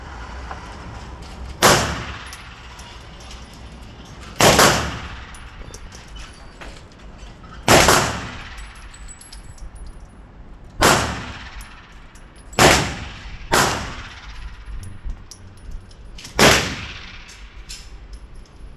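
Smith & Wesson 380 EZ pistol fired at a shooting range, seven sharp shots spaced a few seconds apart with the pairs near 12.5 and 13.5 seconds closer together, each loud and close with a short ringing decay.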